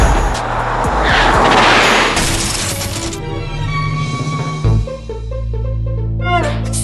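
A cartoon delivery truck's wheel spins stuck in a deep pothole: a loud close burst of engine roar and tire squeal, then a thud and a lower straining engine drone with sharp squeaks.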